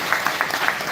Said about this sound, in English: let's give our Parks and Rec a round of applause